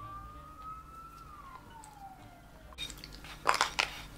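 Emergency vehicle sirens wail outside, a distant rising and falling tone sliding downward for a few seconds, then give way to close rustling and clattering.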